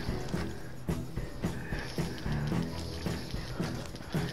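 Rapid clip-clop of horse hooves pounding in a steady galloping rhythm, with game sounds and faint background noise around them.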